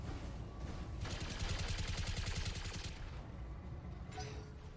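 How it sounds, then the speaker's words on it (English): A mech in the game Battletech fires its machine guns in a rapid, steady rattling burst of about two seconds, with a rumbling mechanical din before and after. "will our machine guns be enough?"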